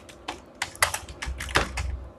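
Fingers tapping out a company name on a computer keyboard, a quick irregular run of crisp close key clicks lasting about two seconds, no talk.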